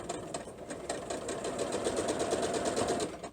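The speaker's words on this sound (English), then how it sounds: "And then sew through that." A sewing machine runs steadily, stitching pieces of fabric together for a heart-shaped table runner, with an even rapid mechanical rhythm close by that holds for several seconds.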